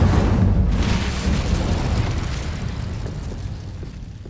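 Fiery Confringo spell explosion in the video game Hogwarts Legacy, a loud booming blast that rumbles and slowly fades over a few seconds, with no talking.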